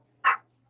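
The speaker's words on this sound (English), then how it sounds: "that's the little dog that my husband got me for our 25th anniversary" A small dog gives one short, sharp bark, close and fairly loud against a quiet background with a low steady hum.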